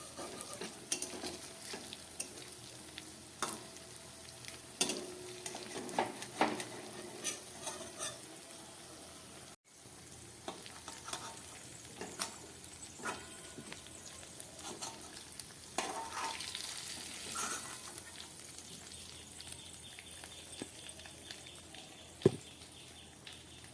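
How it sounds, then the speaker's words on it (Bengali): Banana flower balls fry in oil over low gas, a quiet, steady sizzle with occasional clinks and scrapes of a utensil against the pan and no talking. "একেবারে গ্যাস কম করে লো আছে আমি এই মোচার বলগুলোকে ভেজে নিলাম।"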